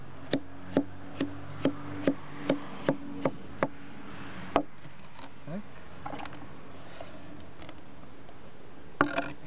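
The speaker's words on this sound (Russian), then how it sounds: "Помидорка домашняя отлично режет." A survival knife slices through a homemade tomato on a board in a run of about ten evenly spaced sharp taps, close and clear, followed by quieter handling sounds.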